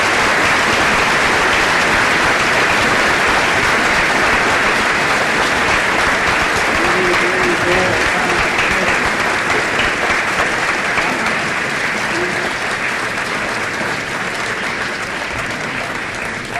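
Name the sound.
audience applause at a fiddle contest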